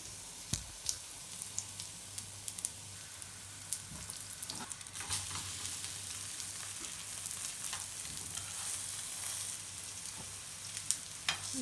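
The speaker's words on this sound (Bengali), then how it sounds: "যে উল্টায় পাল্টায় ভাজা নিতেছি সুন্দর করে ডিম পরোটা" An egg paratha fries in oil on a hot tawa, giving a steady close sizzle with occasional pops and stirring clicks throughout.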